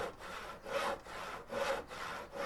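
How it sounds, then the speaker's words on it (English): Crafting a wooden hammer in the video game Cowboy Life Simulator produces rhythmic wood-sawing strokes, about four rasping back-and-forth passes heard clearly with nothing else over them. "Let's craft a wooden hammer."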